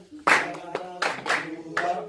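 Hands clapping in a rhythmic warm-up during a university music lesson, four or five sharp claps in an uneven pattern, close and fairly loud, with a faint voice in the background.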